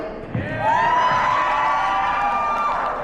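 Audience at a cosplay contest yelling, cheering and whooping for a Garfield costume, a loud sustained crowd roar with mixed shouts that swells in and holds steady for the full stretch.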